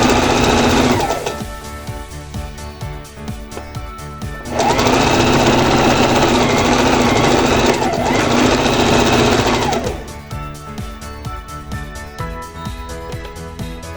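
Sewing machine stitching a one-centimetre blouse seam, a loud rapid mechanical whir running steadily throughout, surging louder for several seconds in the middle before easing back.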